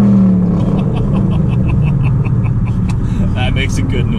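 A Ford Mustang V8 with Flowmaster Outlaw exhaust idles with a deep, throaty rumble, steady and close, while people talk over it.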